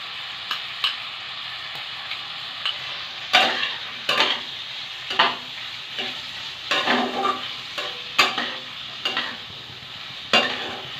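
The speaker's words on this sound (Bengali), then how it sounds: "নেড়ে চেড়ে মশলার সাথে ভালোভাবে কষিয়ে নেব।" Potato and ridge gourd being stirred and sautéed with turmeric, salt and ground spice paste in a pan: a steady low sizzle broken by repeated scraping strokes of a spoon, close and fairly loud, with no talking.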